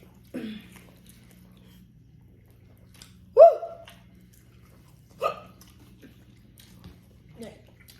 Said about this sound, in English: I already got hiccup.